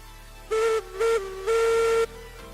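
A steam whistle in the train video game Railroads Online blows three clear blasts, two short and then a longer one, over a quiet low hum.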